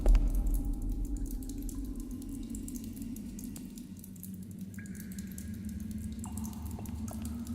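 Water drips steadily in a cave setting in the game Lost Horizon, with sparse, faint plinking drops over a low, continuous ambient rumble, no voices present.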